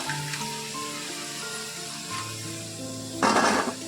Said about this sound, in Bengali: এক্ষেত্রে আমি হাই ফ্লেমে ভেজে নেব